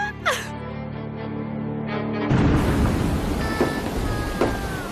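Thunder breaks out partway through with a heavy roll over a dense hiss of rain from a thunderstorm, loud and close, after a quieter opening with a tonal hum.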